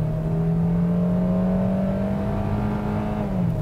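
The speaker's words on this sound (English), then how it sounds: "The engine definitely gets buzzy when you are pushing it." A 2020 Hyundai Venue engine revs hard and steadily, a loud, buzzy drone that holds a rising then falling pitch close by, with no voices over it.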